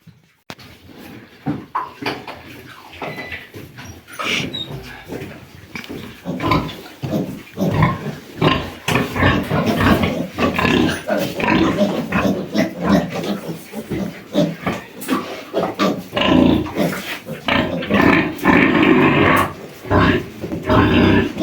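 Sows grunting on a farm during the evening round, with a steady run of close, loud grunts and snorts and some clattering in the pen.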